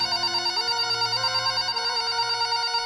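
A phone rings indoors with a bright electronic ringtone melody, repeating steadily and clearly, alone without talk.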